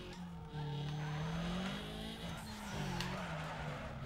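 A car drifts in the Need For Speed Underground 2 racing game, with tires squealing loudly and continuously over a droning, revving engine.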